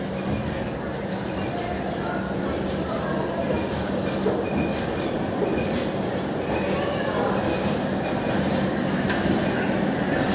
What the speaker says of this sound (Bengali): 6 মিনিট হল্ট করে ট্রেনটা ছেড়ে দিল খড়গপুর স্টেশন